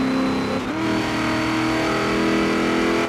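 A supercharged V8 car engine in Forza Horizon 3 roars steadily at high revs, loud and close, with a brief dip in pitch before climbing again; no talking.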